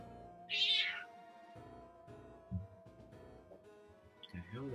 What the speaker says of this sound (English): What are those cats doing?